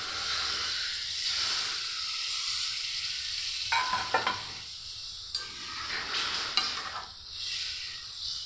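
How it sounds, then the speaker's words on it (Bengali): Water poured into a hot pan during home Bengali cooking sets off a steady broadband sizzle with intermittent stirring scrapes and clinks, close and moderately loud, with no talk. "এখন জল দিয়ে দিব।"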